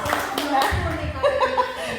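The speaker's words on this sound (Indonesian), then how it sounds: "Yuk kak, tepuk tangan kak." Children at a Sunday school clap their hands, short bursts of claps mixed with giggles and lively voices talking close by.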